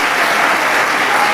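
Loud, steady audience applause welcoming a performer at an inauguration event in Oviedo, Asturias, a dense wash of many hands clapping close by with no talk over it.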